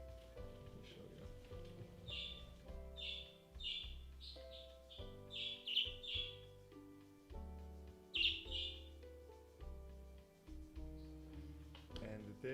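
Rainbow budgies chirp in short bright bursts, scattered repeatedly across the scene, quiet and slightly distant beneath soft background music.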